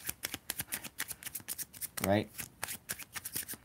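A deck of playing cards is shuffled during a card trick, a short dense riffle burst under steady close talking.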